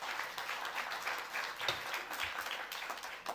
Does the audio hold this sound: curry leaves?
no